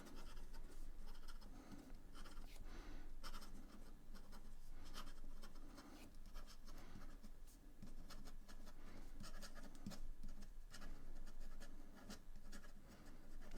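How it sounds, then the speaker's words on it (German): Lamy AL-star fountain pen with a medium nib scratching quickly across paper, a faint, continuous close-up scribbling with brief strokes and no talk. "Und dann versuchen wir mal schnelles Schreiben."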